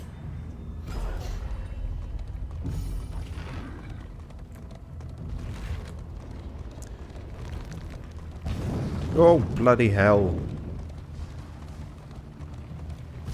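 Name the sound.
cannon fire explosions in the video game Darkest Dungeon 2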